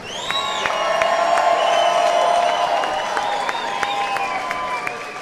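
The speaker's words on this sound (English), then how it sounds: "how about a round of applause for these guys?" A crowd at an amateur fight night cheers and whoops with sustained shouts and whistles, while sparse claps pop through the steady roar.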